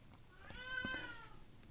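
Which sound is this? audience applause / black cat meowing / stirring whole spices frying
black cat meowing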